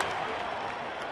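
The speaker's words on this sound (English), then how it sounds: "Here comes the crowd." A baseball stadium crowd cheers at a Tigers home opener, a steady broad roar of many voices throughout, with a commentator speaking over it.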